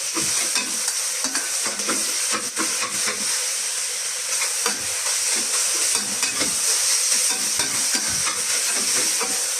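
Pork pieces frying in a hot pan, a constant crackling sizzle with bursts of spitting and scraping stir sounds, close and fairly loud throughout.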